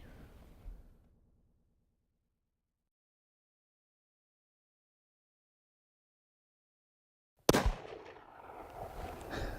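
A single loud rifle shot on a deer hunt, fired at a deer about 150 yards away, breaks several seconds of near silence with an abrupt sharp crack, followed by a rolling echo and lingering noise.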